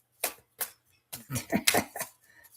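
Stiff, hard-to-shuffle Masters of Light card deck being split and shuffled by hand, giving a few separate crisp flutters and riffling bursts in quick succession, close and fairly quiet, with no talking.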